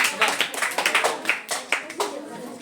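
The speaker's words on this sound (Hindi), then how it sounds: "जोरदार तालियां बच्चे के लिए होना।" Children in a classroom clap for a classmate, a quick run of sharp, close handclaps in an uneven rhythm that tapers off, with voices mixed in.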